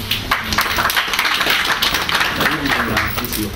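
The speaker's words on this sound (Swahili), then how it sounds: "Tumkaribishe kwa makofi." An audience at an annual delegates meeting in a hotel claps to welcome a speaker, a dense burst of close, continuous applause with voices talking over it.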